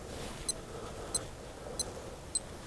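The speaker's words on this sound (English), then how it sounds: "So when you hit that mode button, you get that beep sound." Four short, sharp beeps from the mode button of a Casio WS1600 digital watch, evenly spaced about two-thirds of a second apart, close and clear over quiet background hiss.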